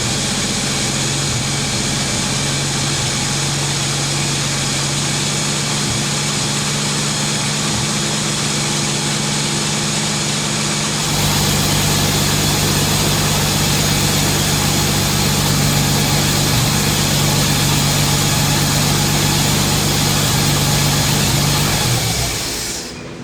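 Engine idling steadily, a loud continuous drone that shifts to a fuller, louder tone partway through and holds before cutting off at the end, with no talk.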